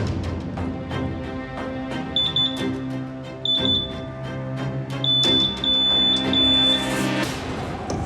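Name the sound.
ion scanner narcotics test alarm detecting cocaine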